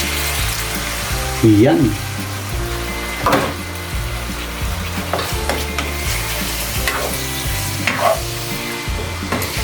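Adobo marinade sauce poured into a hot sizzling pan, a loud steady sizzle with stirring scrapes and a few sharp bursts, a brief spoken word near the start.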